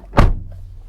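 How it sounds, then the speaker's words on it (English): The door of a 2021 Toyota Highlander XSE AWD shuts with a single solid, muffled thunk, close and loud, then a brief quiet settling afterward. "but shutting the door here of the Highlander."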